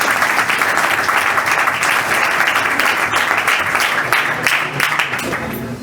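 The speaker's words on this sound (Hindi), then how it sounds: "इनके लिए जोरदार ताली हो जाए।" Loud, dense applause from a gathered audience honours the selected student's mother at a coaching-class celebration, many hands clapping steadily throughout.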